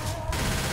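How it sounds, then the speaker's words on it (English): Rapid gunfire aimed at a Tank in Left 4 Dead 2, a dense sustained burst of shots with a sudden bright onset partway through, loud and close with no talking over it. "I shot him as much as I could."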